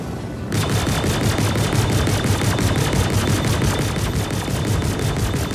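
Rapid, sustained automatic cannon fire from a spacecraft in Star Citizen, a loud, evenly spaced stream of shots that starts abruptly and continues without a break.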